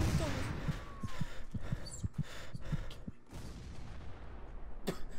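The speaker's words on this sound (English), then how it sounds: "There's a machine. It's a Gatling gun." Rapid gunfire from a Gatling gun in a Civil War video game, a rhythmic series of sharp thumping shots, roughly a dozen evenly spaced bursts, at moderate distance with a brief crack near the end.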